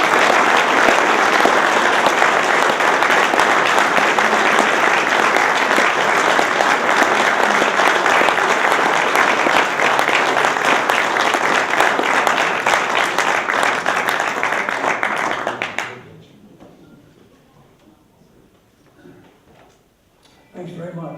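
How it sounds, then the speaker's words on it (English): Warm applause from an audience welcoming a guest speaker, a dense, loud sustained clapping that runs for about fifteen seconds before stopping abruptly, leaving quiet room tone. "Let's give a warm round of applause to our good friend, Morley L. Piper."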